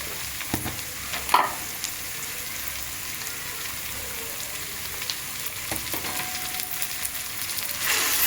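Chopped goat head meat sizzles in a pan with pepper powder, chili powder and salt, a soft steady crackle broken by a few louder clinks and stirring scrapes, close by and without speech.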